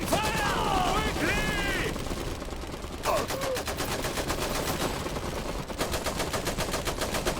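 Rapid bursts of automatic gunfire rattle continuously in a busy battle scene in the video game Iron Harvest, with voices calling out briefly over the shooting.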